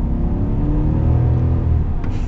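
A 2023 Chevy Silverado Trail Boss Midnight Edition with its 6.2-liter V8 pulls hard under acceleration, a loud, close, steady engine roar rising over a couple of seconds with no talking.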